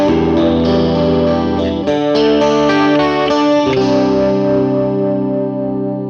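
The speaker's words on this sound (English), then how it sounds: "that's the chorus there, pretty standard" An electric guitar played through a chorus pedal on a blues pedalboard rings out in shimmering, wavering chords with a few changes, loud and close, fading into a sustained decay.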